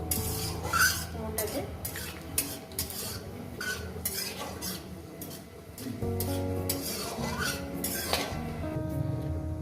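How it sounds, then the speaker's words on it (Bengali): Four dried red chillies and panch phoron frying briefly in a pan, heard as a faint sizzle under brisk metal spatula scraping and clinking against the pan, with some talking. "চারটে শুকনো লঙ্কা আর দিয়ে দেবো পাঁচ পাঁচ ফোড়নের ফ্লেভারটা আমার খুবই ভালো লাগে তাই আমি দিচ্ছি একটু কয়েক সেকেন্ড একটু ভেজে নেবো"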